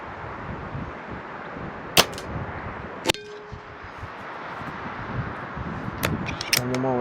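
Shots from a Weihrauch HW90k spring airgun loaded with JSB pellets, two sharp cracks a second apart, then later a couple more crisp snaps with a brief metallic ring, close and loud over a steady background hiss.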